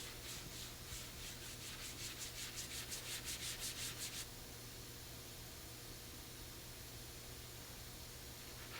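Steady, close hiss of hand sanding on the ends of a wooden propeller, with a rhythmic run of back-and-forth strokes in the first half before settling into an even rubbing.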